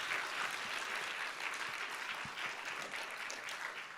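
An audience at a Mother Easwaramma Day program gives a round of applause for a group of costumed performers, with dense, even clapping that runs throughout.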